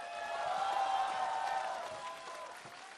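A live television singing-competition crowd applauds singers on stage in a steady, dense wash of clapping and crowd noise that swells slightly and then tapers, with no talking over it.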